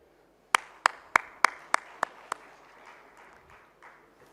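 An audience welcomes a guest onto the stage with a short run of about eight sharp, evenly spaced claps. The claps fade into quieter, scattered clapping and room murmur.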